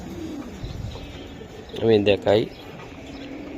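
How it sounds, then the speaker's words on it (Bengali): Pigeons cooing close by, a low throaty burst of two or three coos standing out over soft background noise, with a person speaking briefly. "এই যে আরেকটা কবুতর"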